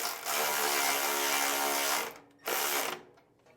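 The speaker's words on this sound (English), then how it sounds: "This takes a 3/8 wrench. We run these down close, but don't tighten them up all the way" A 3/8 wrench runs bolts down on a GrassFlap hinge plate being fitted to a Wright ZXL 61-inch mower, giving a loud, steady ratcheting whir for about two seconds, a short pause, then a second burst.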